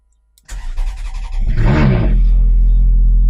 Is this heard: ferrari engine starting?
yes